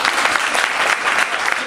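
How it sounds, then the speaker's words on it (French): Schoolchildren at a school awareness event clap together in a loud, close burst of dense applause that holds steady throughout, with rhythmic peaks suggesting some clapping in time. "on applaudit"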